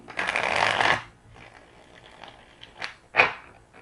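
Tarot cards riffle-shuffled close up in a quick crisp burst, followed by softer shuffling and a couple of sharp taps as the deck is squared.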